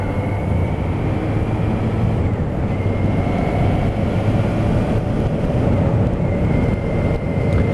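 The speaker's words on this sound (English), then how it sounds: "Getting up to speed and positioning my bike." A Honda CBF 600 SA motorcycle on the move gives a loud, continuous, unbroken roar of engine and wind rumble throughout, with no talking.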